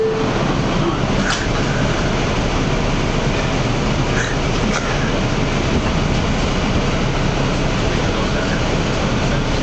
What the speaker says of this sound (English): This is a Bronxbound 4 train.